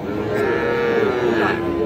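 A young bull calf at a cattle market gives one close, drawn-out moo lasting nearly two seconds, loud and clear over faint background bustle.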